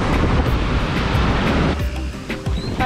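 Ocean waves break continuously on the beach at Playa Flamingo, Costa Rica, a loud, steady wash of surf with wind rumble, easing slightly partway through before swelling again.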